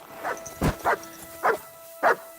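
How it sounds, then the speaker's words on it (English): Mutt, the dog companion in Kingdom Come Deliverance 2, gives a run of four or five short, fairly loud barks spaced about half a second apart over a steady game backdrop, with no talk over them. "Okay, I need to stop because Mutt is gonna bark"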